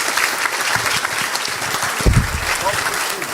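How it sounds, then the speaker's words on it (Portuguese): A crowd at a church youth event applauds the leader Sóstenes, loud close clapping under raised voices and cheering, with a low thump midway. "uma salva de palmas pelo trabalho que ele está fazendo"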